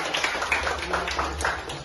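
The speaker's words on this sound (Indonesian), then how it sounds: "Tepuk tangan untuk kita semua." A school class claps together in a classroom, giving a short burst of dense, slightly muffled applause that lasts under two seconds.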